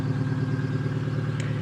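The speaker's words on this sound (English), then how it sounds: "It's got a pretty cool sounding exhaust leak" A running 2002 Subaru Legacy with an exhaust leak idles close by, giving off a steady, rapid, puttering engine drone with a faint ticking edge and no voices.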